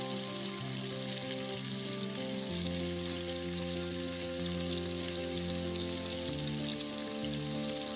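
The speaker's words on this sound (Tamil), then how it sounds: "சிக்கன் நல்லா முறுமுறுன்னு ஃப்ரை ஆயிடுச்சு." Chicken 65 pieces with curry leaves deep-frying in hot oil give a steady, dense sizzle and crackle throughout, with a low hum running underneath and no voices.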